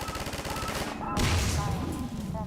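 Mounted gun firing in a video game, dense rapid bursts of automatic fire running steadily throughout, loud and close, with game voices faintly mixed in underneath.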